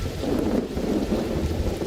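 A Fallout 76 camp has rainy thunderstorm ambience, with a dense rumbling wash of rain and low thunder that holds steady and fairly loud for nearly two seconds, with no voices.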